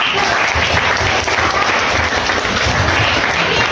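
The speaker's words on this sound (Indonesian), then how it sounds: "Oke, tepuk tangan." Dense, steady applause from a class or audience at a teaching session, loud and continuous, with many hands clapping together and no voices.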